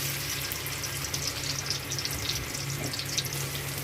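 Bitter gourd pieces frying in hot oil in a wok on a stove, a steady, fairly close hiss and crackle that runs evenly throughout with no talking.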